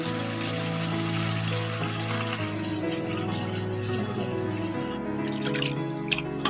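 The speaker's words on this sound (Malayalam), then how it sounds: "ഈ ഇലകളെല്ലാം ഒന്ന് കഴുകി എടുക്കണം." Tap water runs steadily into an aluminium pot or sink while herbal leaves are washed for a herbal coffee, a continuous close gush that ends in a few splashes and drips.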